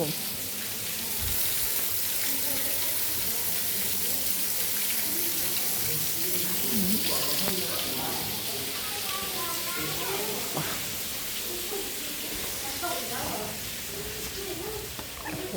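A waterfall at a Thai hillside temple gives a steady, dense rush of falling water that fills the whole stretch, with voices talking faintly beneath it.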